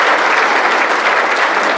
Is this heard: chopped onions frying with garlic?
no